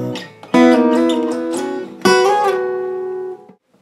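A guitar fill from a song sounds as a short melodic phrase of plucked notes, two strong attacks ringing and sustaining clearly, close and alone with no talking.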